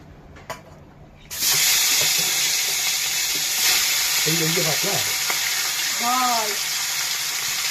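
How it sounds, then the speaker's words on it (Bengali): A kokari fish head frying in hot oil bursts into a loud, sustained sizzle after a quiet second and keeps hissing steadily, with brief voices heard over it. "এখন এই মাথাটা ভেজে নিলাম"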